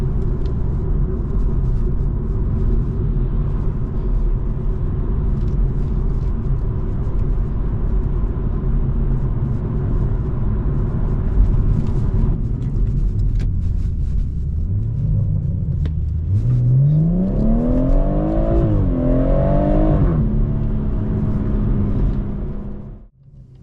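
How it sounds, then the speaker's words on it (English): Steady low road rumble and tyre noise fill the cabin of a BMW M140i while driving, loud and constant, with the engine note rising as it accelerates near the end. "So I'll let you have a listen now to the road noise."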